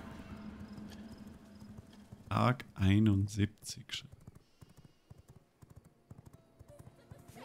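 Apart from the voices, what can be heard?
horse hooves and neighing in a video game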